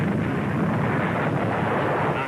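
A tank gun firing in World War II era combat footage: a dense, sustained roaring blast with heavy low rumble that fills the whole moment at close range without pause.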